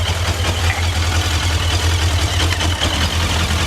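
Honda 600 Transalp motorcycle engine running steadily after a jump start, a loud continuous low rumble with a mid-range mechanical clatter throughout.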